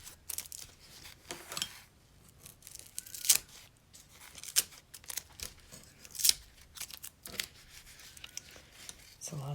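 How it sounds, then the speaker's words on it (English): Sewing tape being peeled and torn off a quilted purse, with repeated crisp ripping and crinkling sounds, close and fairly quiet, coming in irregular bursts. "try to get rid of some of this tape I've used so it doesn't get caught in the purse later"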